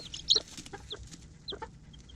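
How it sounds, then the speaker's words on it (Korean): A mother hen clucks with her chicks on a cold winter day, giving a few soft, low clucks mixed with high, thin cheeps that come and go, faint and close, with no one talking. "어느 정도 시간이 지나면 몸이 따뜻해진 병아리들이 엄마 품속에서 나온다."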